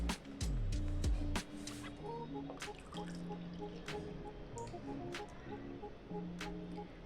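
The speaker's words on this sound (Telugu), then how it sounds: "సో 1 కప్ వాటర్ పోస్తున్నాను" One cup of water poured from a cup into a pan on a kitchen stove while making rice-flour dough for garlic murukulu: a brief splashing pour, then scattered soft drips, close and quiet.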